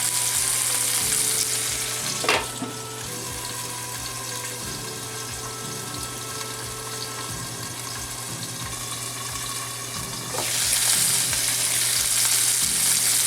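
Shrimp and salmon sear in a hot pan with a loud, steady sizzle, broken by a couple of sharp clinks near the start and again toward the end.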